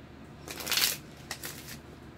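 A deck of tarot cards riffled and shuffled by hand, with two quick crisp bursts of shuffling close to the listener, the first louder, and no talking.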